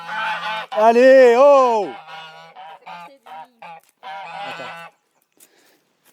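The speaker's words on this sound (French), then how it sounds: "les oies elles sont à fond là parce que elles se relaient pour couver" Geese on a farm honk loudly and close by in several harsh bursts, one long wavering call followed by shorter clipped honks, while a person briefly calls out among them.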